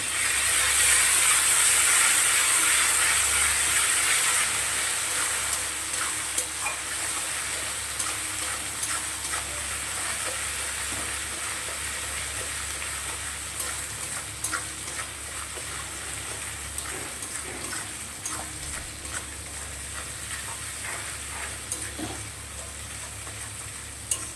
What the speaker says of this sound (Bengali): সামান্য একটু জল দিয়ে দিলাম মশলাটা একটু কষানোর জন্য